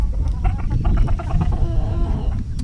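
A rooster and hens in a coop cluck loudly and close by, a run of quick, throaty clucks.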